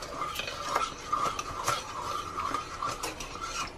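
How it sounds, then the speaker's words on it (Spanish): A spoon scrapes and clinks steadily around a bowl, stirring together ingredients for a Chinese-style beef and broccoli dish, in a close, rhythmic series of metallic taps and scrapes with no speech. "lo mezclamos muy bien"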